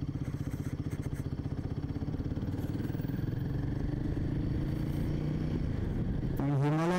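A Royal Enfield Himalayan motorcycle cruising on the Mumbai-Goa highway, its single-cylinder engine thumping in a steady close drone with wind rush, then rising in pitch as it revs near the end.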